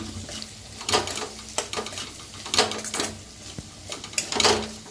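Homemade red chili powder roasts in a pan, soft sizzling under repeated scraping and stirring strokes that come in short bursts, with a few metallic clinks of spoon against pan.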